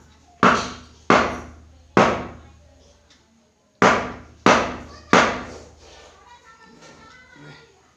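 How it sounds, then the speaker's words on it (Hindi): Sharp hammer blows knocking the old bush out of a table fan, six loud metallic strikes in two groups with short pauses, close by, followed by fainter shuffling handling noise. "ठोक के निकाल रहा हूँ और नया लगा रहा हूँ"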